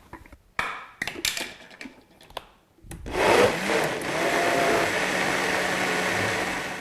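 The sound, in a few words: blender blending black bean soup with salsa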